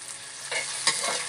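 Onions and dried chillies frying in oil for a village-style chicken gravy, a steady close sizzle with a few brief louder stirring bursts, no voices.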